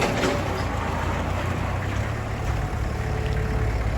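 A Kubota L4508 diesel tractor engine idles steadily and continuously, close by, rumbling with a broad low-frequency drone and no pauses.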